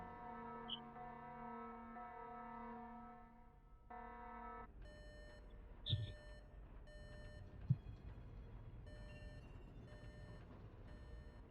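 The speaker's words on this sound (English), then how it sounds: "I guess he has like a beep on him" Electronic beeps from an animated Skibidi character: a held multi-tone synth drone breaks off, then short repeating high beeps pulse in a steady on-off pattern, quiet and thin, with a couple of soft thumps in between.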